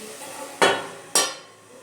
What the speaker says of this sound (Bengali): এবার আমি পাঁচ চার থেকে পাঁচ মিনিটের জন্য আমি এটাকে ঢাকা দিয়ে দিচ্ছি